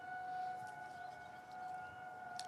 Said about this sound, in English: Nothing makes me feel at home like hearing a tornado siren being tested.